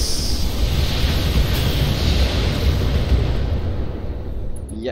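A mech blowing up in the BattleTech video game, a loud, sustained roaring explosion with broad rumbling debris that slowly fades.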